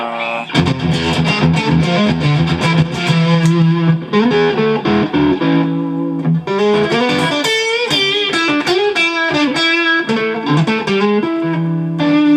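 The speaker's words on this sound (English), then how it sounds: "up to full-on heavy metal distortion." Heavily distorted electric guitar through a Brimstone Audio Crossover Distortion XD-1 pedal plays chugging chords and riffs, loud and saturated, with short pauses between phrases.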